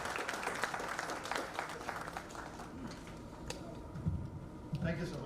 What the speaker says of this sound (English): Ladies and gentlemen, a big round of applause for